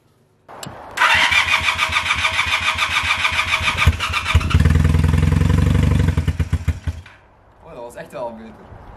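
A 1978 Honda CB250 Twin motorcycle engine cranks and catches, then runs with a rough, pulsing mid-pitched rumble, revs up louder for a couple of seconds, and cuts off, followed by a brief voice.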